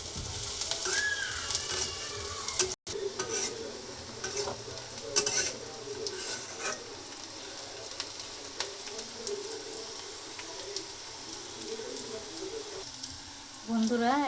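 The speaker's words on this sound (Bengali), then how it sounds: "পেঁয়াজ মরিচটা একটু লাল লাল করে ভাজতে হবে।" Onions and green chillies frying in a pan with a pinch of turmeric, a steady close sizzle with stirring scrapes throughout and brief speech in the background.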